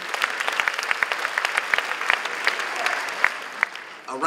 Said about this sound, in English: Give a round of applause to your faculty and your staff members.